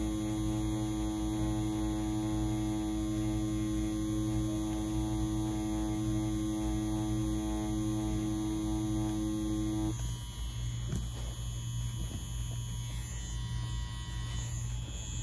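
An XNET Elite wireless tattoo machine packing black ink buzzes steadily and close, with a constant electric hum throughout that roughens slightly near the end.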